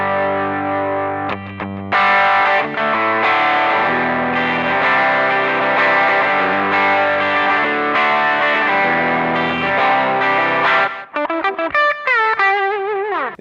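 Suhr Classic T electric guitar driven through a Timmy overdrive pedal plays rock or country-rock chords and riffs, loud, sustained and continuous, with a few brief stops and a looser run of notes near the end; no talking.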